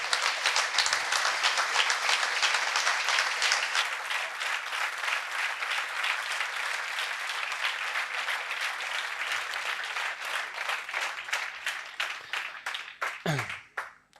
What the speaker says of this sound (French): cet entracte d'applaudissements